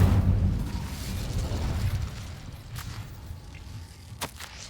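An Incendio fire spell in Hogwarts Legacy lets out a loud burst at the start. A rolling low roar fades over a few seconds, and a sharp crack near the end stands out against quiet game ambience.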